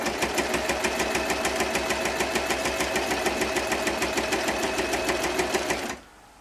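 A sewing machine joins quilt blocks with a fast, regular stitching rhythm. The run stays close and steady, then stops abruptly near the end, leaving quiet.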